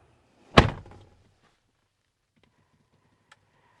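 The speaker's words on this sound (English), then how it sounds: "as I close the door" A single solid thunk as the door of a 2024 Chevy Traverse RS shuts, heard from inside the cabin, followed by faint quiet ticks and a soft click a few seconds later.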